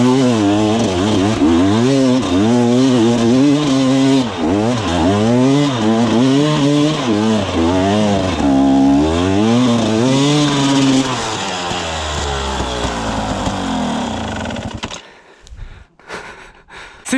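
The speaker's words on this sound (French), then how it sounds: "Le bruit du deux temps quand tu lui donnes, c'est magnifique" A two-stroke enduro motorcycle engine revs hard and close, its pitch rising and falling in repeated waves of throttle before the engine cuts out and only faint rustling remains.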